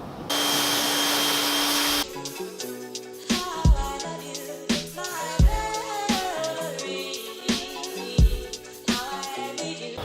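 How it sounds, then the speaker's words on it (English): A pressure washer rinses soap off a BMW 335i with a steady, loud hiss for under two seconds, then music takes over for the rest. "I'm just gonna try to use the power washer now to get off all the soap on the car"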